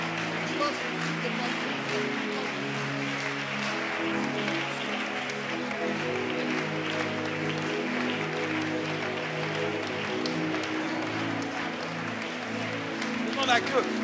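Congregation applauding throughout a church service, a steady wash of clapping beneath loud music and singing, continuous for the whole stretch.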